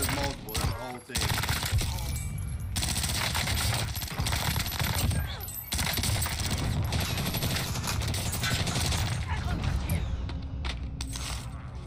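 PPSh-41 submachine gun firing in the video game Warzone, rapid automatic bursts sounding near and loud amid a dense clatter of other gunfire, mechanical clanks and busy game effects throughout.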